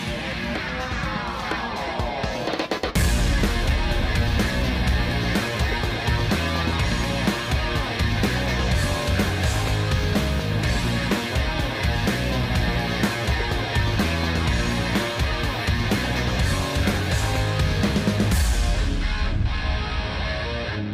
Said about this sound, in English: Please bear with any of the traffic noise you hear in the background.